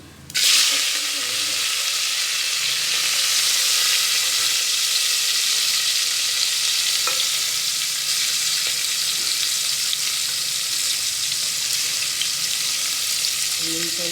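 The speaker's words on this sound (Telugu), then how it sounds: "ఉల్లిపాయలు పచ్చడిగా వేసిన తర్వాత బ్రౌన్ కలర్ కదా రావాలి, వేగాలి." Onions and garlic sizzle steadily in hot oil with asafoetida for a pressure-cooked dal, a loud continuous broadband fry with occasional stirring scrapes and no talk.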